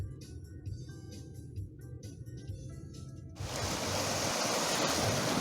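Sea surf washes against the shore, a low churning roar that swells sharply louder and broader halfway through and stays dense to the end, with no voices.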